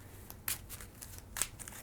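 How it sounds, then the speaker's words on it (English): A deck of playing cards for a solo game of Marvel Champions is shuffled by hand, quiet riffling with two sharper snaps of cards bridging together, close and soft with no talking. "I'm gonna give the deck one last shuffle here"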